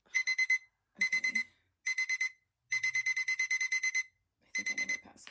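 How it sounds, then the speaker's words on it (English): A digital alarm clock beeps in rapid bursts of high pulsing tones, five clusters separated by short pauses, loud and close with no talking. "my roommate's alarm has been going off forever"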